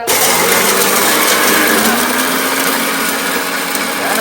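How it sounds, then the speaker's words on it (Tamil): A mixer grinder runs steadily while grinding biryani masala for a seeraga samba country chicken biryani, giving a continuous loud high-pitched motor whine with no pauses throughout. "மிக்ஸியே ஓடாது."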